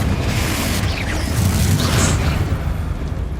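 A fiery Confringo spell blast in Hogwarts Legacy, a dense, rumbling explosion filling the whole stretch at steady loudness with a deep low roar and crackling debris above it, no talking.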